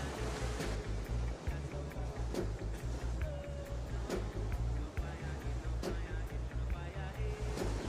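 Surf rolls steadily onto Hellshire Beach in Jamaica, a continuous rumbling wash with a heavy low-end wind-buffeted roar and occasional sharper splashes, fairly close and without any talking.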